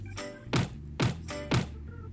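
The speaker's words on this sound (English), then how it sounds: "The big bad wolf knocked at the door of the second little pig." Three evenly spaced thumping knocks on a door, a sound effect in a read-aloud children's story, each sharp and close against a quiet musical background.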